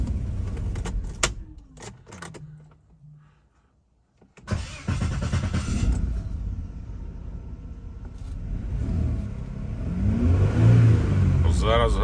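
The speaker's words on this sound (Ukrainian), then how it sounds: "Дивіться, машину газую, вона не газується все." An Opel Vectra C, with a fault where the warmed-up engine stops responding to the accelerator, is started after a few clicks and a pause, then idles with a low rumble and a sluggish rise in revs near the end, alongside faint voices.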